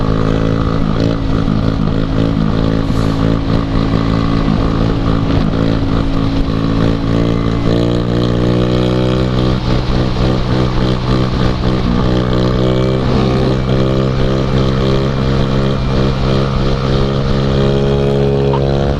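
A two-stroke Honda Elite scooter doing wheelies, its engine droning loud and steady throughout with revving swells and no pauses, close to the rider.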